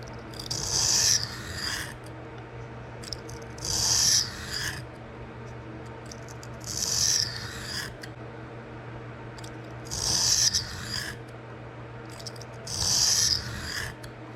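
A knife blade is drawn across a coarse 220 grit CBN sharpening stone in five evenly spaced rasping strokes, each a few seconds apart, close and fairly quiet against a faint steady hum.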